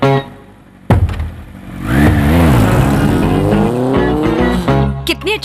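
Motorbike engine revving during a ride in a Hindi movie, a loud rising and falling roar with shifting pitch after a brief quiet start, ending in abrupt bursts.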